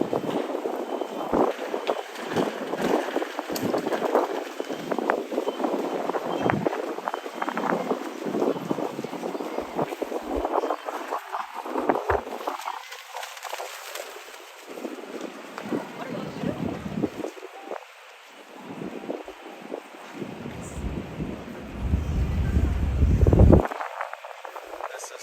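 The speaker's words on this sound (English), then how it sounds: "It's like a wind tunnel through here." Strong wind gusts sweep through a Tokyo street near the scramble crossing, a steady roaring rush that swells and eases across the clip, with a louder buffeting burst near the end.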